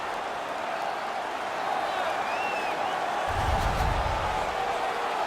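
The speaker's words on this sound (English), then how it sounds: "The home crowd is ecstatic. They're making all kinds of noise." Home crowd at a hockey arena in the NHL 18 video game roars and cheers after a fight, a steady broad wash of noise that swells louder near the end.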